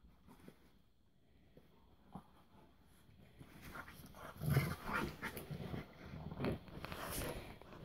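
Two dogs wrestle playfully on a bed, giving low growls, snuffles and rustling that start quiet and grow louder and busier toward the end, close by.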